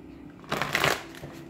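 Tarot cards shuffled by hand in one short riffling burst of papery flutter, fairly close and moderately loud, with quiet room tone on either side.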